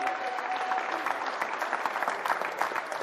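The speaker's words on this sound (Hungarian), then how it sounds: "akiknek most szeretnénk kérni egy tapsot" A workshop audience applauds two elderly volleyball coaching legends, a lively, dense patter of clapping from a room of people, steady and fairly close with a few sharper individual claps standing out.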